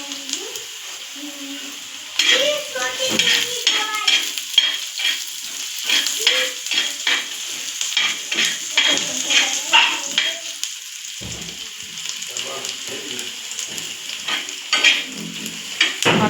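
Eggs sizzle and fry in a pan for egg bhurji, with repeated scraping and stirring strokes of a spatula against the pan, close and fairly quiet, and brief moments of speech in the background.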